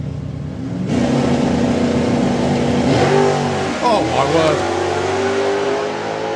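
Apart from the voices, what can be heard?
small block Chevy V8 drag racing car engine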